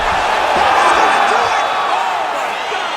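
Arena crowd roaring steadily in a UFC 5 video game fight, a dense, loud wash of cheering and whooping that holds throughout with no clear breaks.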